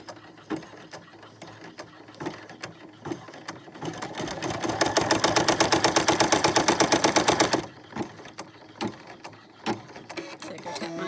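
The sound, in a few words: sewing machine stitching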